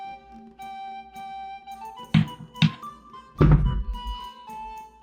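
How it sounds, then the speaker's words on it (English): A firework mortar goes off outside a window, heard as a few loud, booming thumps over a quiet room with a steady tonal background. "that was a loud mortar that went off out my window"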